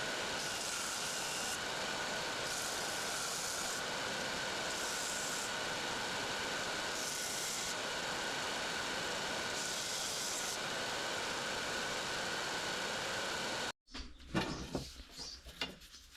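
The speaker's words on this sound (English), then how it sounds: "Now I will just flatten all of this with a belt sander." A belt sander flattens a glued joint on a wooden bow, a loud, steady whirring grind that runs unbroken for most of the clip before cutting off abruptly into quieter handling noises.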